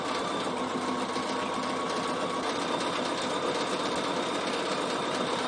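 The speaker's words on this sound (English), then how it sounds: "So now I just sew down, and it stitches in the ditch, and then it jumps over and does one bite." A Bernina sewing machine stitches in the ditch along a quilted binding on a casserole carrier cover, making a steady, close, continuous motor whir with a fast needle rattle and no talking.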